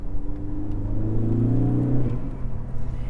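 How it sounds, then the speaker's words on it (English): A Ford Focus ST hot hatch with an aftermarket exhaust drones loudly from inside the cabin, a steady low engine rumble that rises briefly as it revs. "one thing you might be able to hear through the microphone is this car's pretty loud."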